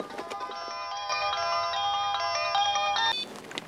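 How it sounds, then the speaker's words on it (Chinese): A mobile phone ringtone plays a bright, repeating melodic tune for about three seconds indoors, then cuts off abruptly. "小等我接一下电话嘞"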